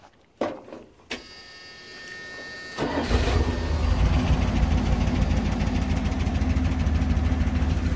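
A Chrysler 318 V8 with a new water pump, alternator and hoses cranks and catches, then settles into a steady, loud idle with a faint tick running through the rumble, after a few clunks at the start.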